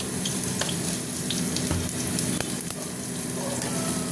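Whole cumin, dried chillies and moong dal sizzle and crackle in hot oil, a dense close frying hiss with scattered pops and occasional stirring clinks.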